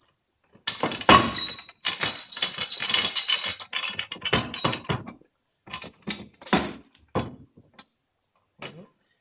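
Clicks, ratcheting ticks and knocks as the ends of a woodworking clamp are dialed back during a glue-up, close and intermittent with short bursts separated by quiet gaps.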